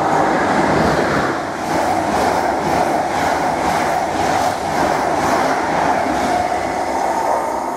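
A through train races past Needham Market Station at high speed, a loud, close, sustained roar of wheels and rushing air that holds steady throughout.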